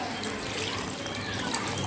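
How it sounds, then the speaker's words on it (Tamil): A tumbler of water pours into a Chettinad pepper crab masala gravy in a pan, a short continuous splashing trickle heard up close. "1 டம்ளர் தண்ணி ஊற்றிக்கிறேன்."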